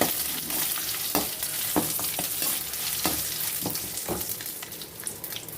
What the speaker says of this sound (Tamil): இப்போது காஞ்ச கருவேப்பிலையும் வரமிளகாயும் போட்டுப்போம்